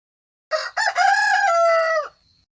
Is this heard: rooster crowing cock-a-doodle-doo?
yes